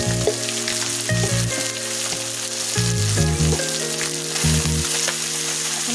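Shing fish frying with onion in a pan, a loud continuous sizzle with stirring scrapes, close up, while steady tonal hum and music-like tones run underneath.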